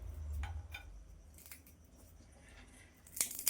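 Fried makhana (fox nuts) cracking and crumbling as they are broken, a few faint, dry crisp snaps spread out over a quiet background, with a louder brittle crunch near the end.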